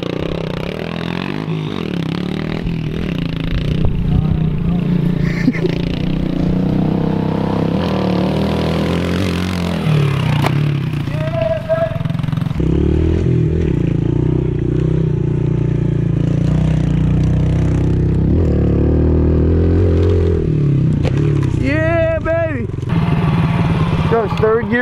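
A pit bike rides a dirt track in third gear, its small engine droning loudly and steadily throughout, rising and falling with throttle as it bogs out of a corner and pulls again, with a rider talking over it.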